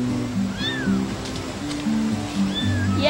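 A cat gives a few short meowing calls that rise and fall, heard over a steady low droning background.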